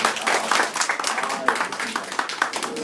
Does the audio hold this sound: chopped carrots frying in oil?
no